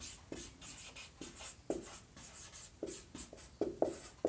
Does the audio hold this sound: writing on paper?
yes